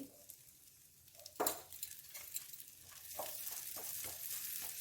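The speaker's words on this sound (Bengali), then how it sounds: "বাটারটা গলে গেছে এবারে আমি গার্লিকটা বা রসুন দিয়ে দিলাম একটু বেশি করেই রসুন দিচ্ছি" Garlic sizzles in melted butter in a pan, with a steady frying hiss, a few brief stirring scrapes and light clinks, and no talk.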